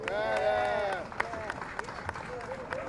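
Audience applause at a Liberian flag-raising ceremony at Philadelphia City Hall, a steady wash of clapping from a crowd, loudest early and thinning toward the end, with a voice speaking over it.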